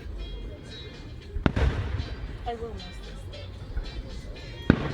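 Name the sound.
fireworks exploding in the night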